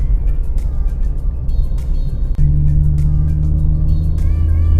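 Chevrolet Cobalt SS engine humming steadily from inside the cabin while driving, a low drone that steps up in pitch and loudness partway through as the car pulls harder.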